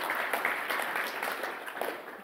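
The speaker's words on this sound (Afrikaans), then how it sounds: "Julle kom ons gee vir die Here 'n hande klap vir die gawes wat hy in jong mense se lewens ingesit het." A church congregation applauds together at a Pentecost service, a brief burst of hand clapping that stays fairly even and close, with no talking over it.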